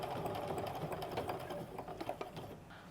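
A sewing machine stitches a bag strap tab in quick, rapid needle bursts, close and quiet, with a few uneven pauses and speed changes near the end.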